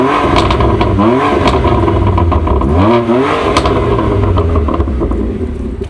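A lawn mower engine fitted with a custom exhaust runs loud and close, climbing through two sharp revs before settling back to a rough, clattering idle.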